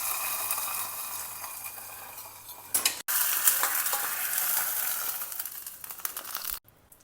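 Hot ghee tempering with mustard seeds, a dry red chilli and curry leaves sizzles and crackles steadily and close up, with a brief cut partway through and a quieter tail at the end.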